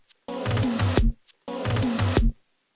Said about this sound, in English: It does sound like a helicopter.